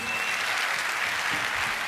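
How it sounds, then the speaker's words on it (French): An audience at a rugby awards ceremony claps in a thick, continuous wash of applause, loud and even throughout the short stretch. "On peut l'applaudir."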